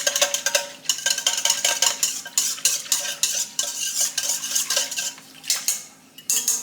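A utensil stirs yeast into water for bread dough, clinking rapidly and repeatedly against the bowl with bright metallic scrapes, close and fairly loud, with no talking.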